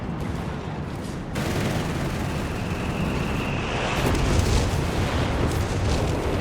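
Vesper rocket fire rumbles through a Company of Heroes 3 battle as a dense, continuous barrage of booms and blasts, loud and sustained with no pauses.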